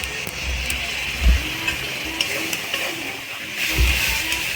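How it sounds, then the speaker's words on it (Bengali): Spice masala with turmeric paste for ghugni being stirred in a hot pan, a soft continuous sizzle with a few low scraping strokes of a spoon, close and moderate. "এই মশলাটাকে আমরা ভালো করে নেড়ে নেব"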